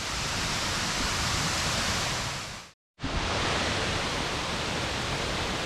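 A steady, full roar of Glencar Waterfall in Ireland, loud and unbroken, with a brief moment of silence in the middle.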